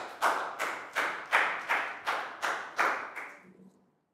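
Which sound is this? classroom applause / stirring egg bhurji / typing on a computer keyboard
classroom applause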